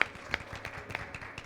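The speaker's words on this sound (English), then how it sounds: "Give him a big round of applause" Scattered, fairly soft clapping at a church service after a birthday song, a few distinct claps in an uneven rhythm with quiet room sound between.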